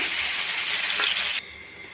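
Ridge gourd sautéed in hot oil sizzles loudly and hisses steadily, then cuts abruptly to a quieter simmer as a little water goes into the pan.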